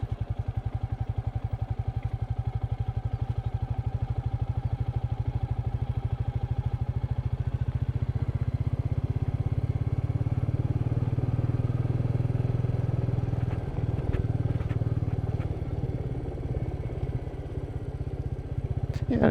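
A Royal Enfield Meteor 350 motorcycle rides along a rough dirt road, its engine a steady, close low thrum throughout with faint clattering from the bumpy surface.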